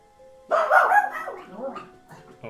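A pet dog barks angrily indoors near a window, a short burst of loud, growly barks followed by softer grumbling yips, fairly close.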